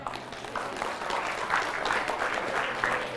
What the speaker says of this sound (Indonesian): Dari bunyi tepuk tangannya, tepuk tangan orang kepanasan.